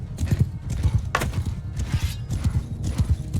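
Massed cavalry hooves pound in Mount and Blade II Bannerlord, a fast rolling rhythm of loud, close thuds with a brief horse whinny mixed in.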